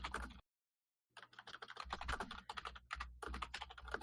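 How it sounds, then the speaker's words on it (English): Rapid typing on a computer keyboard, dense clicky keystrokes close to the microphone after a brief pause, with no voices. "I'm typing"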